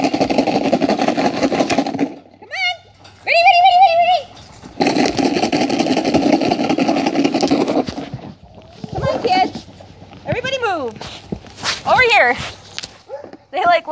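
Young puppies from a litter outdoors, yipping and whining in short rising and falling squeaks, scattered and close, with a person talking loudly between and over the calls.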